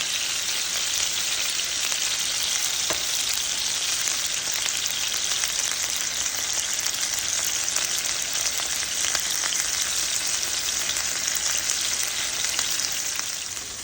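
A porterhouse steak sears undisturbed in a pan, a steady, close, even sizzle with a faint crackle and no stirring, holding level from start to finish.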